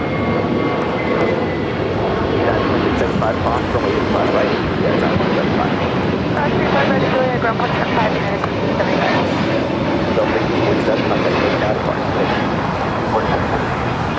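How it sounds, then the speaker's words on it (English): A one-year-old Delta Airlines Airbus A321neo takes off at LAX, its jet engines producing a loud, sustained roar that swells with broadband rumble throughout. "Next takeoff is a flight heading to Salt Lake City. Delta Airlines flight 1647. A 1-year-old A321 Neo."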